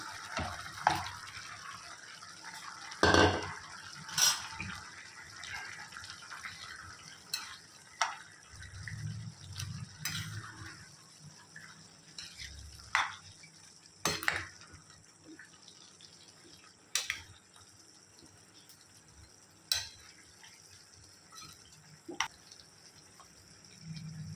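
Chicken pieces go into a pan of bamboo shoots that have been sautéed for ten minutes, then get stirred: irregular clatter and scraping knocks over a soft, wet sizzle, with a few sharp spoon-on-pan hits.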